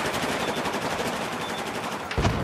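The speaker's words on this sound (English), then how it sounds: "Two of them shooting at me." Sustained automatic gunfire in the video game Battlefield 4 during an ESL tournament match, a dense rattling burst lasting the whole stretch, ending in a heavier blast.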